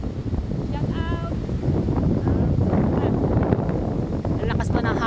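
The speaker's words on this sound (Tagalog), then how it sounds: "Lalakas pa ng hangin." Strong wind blowing across a littered shoreline, buffeting the microphone in a loud, continuous roar, with people's voices faintly heard under it.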